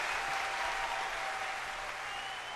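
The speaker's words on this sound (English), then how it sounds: "I'll clap too" Hands clapping in steady applause, a dense, even patter that holds at moderate loudness for a couple of seconds, with faint music underneath.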